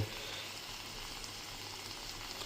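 Fish frying in a covered pan for a home-made Kerala-style fish curry, a steady low sizzle and bubbling that holds evenly throughout, faint and alone.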